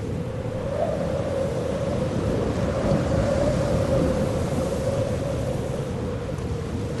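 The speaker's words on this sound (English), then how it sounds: "At this altitude, the wind blows often and hard." Strong high-altitude wind in the Colombian páramo, a continuous loud roaring rumble buffeting the microphone, with no voices.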